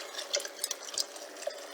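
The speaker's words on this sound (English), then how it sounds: "I boiled some water in the kettle, and I'm going to pour this over the peas" Boiling water from a kettle is poured over peas, giving a faint, short trickle and splash close by with no talk.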